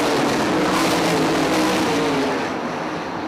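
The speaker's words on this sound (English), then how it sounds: "Ruhl looks to the bottom of Blair, trying to make a move for the lead" Sprint cars race around the dirt oval at I-96 Speedway in a 2013 Sprints On Dirt and NRA Invaders event, their engines a loud, continuous close roar with no voices.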